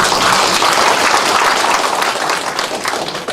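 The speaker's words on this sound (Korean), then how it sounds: "박수를 한번 쳐주세요" Dense, loud audience applause at a town hall meeting with residents in Hongseong, South Korea, a steady wash of many hands clapping that fades slightly toward the end.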